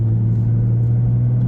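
Nissan R35 GT-R driving fast along a twisty road that opens into a wide stretch, heard as a loud, steady low engine drone with constant rumble from inside the car, no talking.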